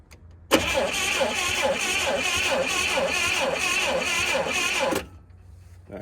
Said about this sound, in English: So I'm gonna go ahead and hit the starter again.